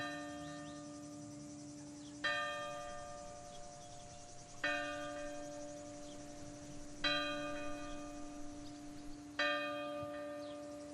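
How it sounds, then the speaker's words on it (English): Church bell in a French onion-growing region striking the 6:05 hour, four clear, evenly spaced strokes with long ringing decays, fairly distant and alone. "That's the 6:05 bell."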